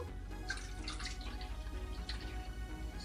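Low-sodium chicken broth poured into a cooking pot, heard as a soft liquid trickle and splash over a low kitchen hum, fairly quiet and without talk.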